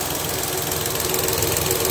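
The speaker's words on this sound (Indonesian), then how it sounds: "nah, mesinnya halus eh nyaris tak tersuara ke sini" A Datsun Go+ engine idles close up, giving off a steady, even mechanical hum with a faint regular pulse and no revving.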